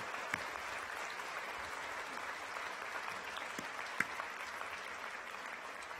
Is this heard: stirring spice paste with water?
no